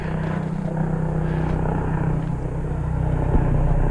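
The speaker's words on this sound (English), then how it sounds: "Is there a helicopter up there?" A helicopter flies overhead outdoors, heard as a steady, continuous low engine drone that holds at a fairly even loudness throughout, with no voices.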